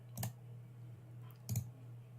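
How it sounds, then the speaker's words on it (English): Two distinct, loud clicks from a computer keyboard, spaced about a second apart, over a steady low electrical hum. "That keyboard is so comedically loud compared to you."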